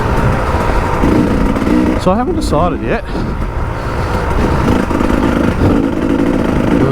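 A 500 enduro motorcycle cruising steadily along, its engine a continuous drone mixed with wind rush, while a rider talks briefly over it partway through.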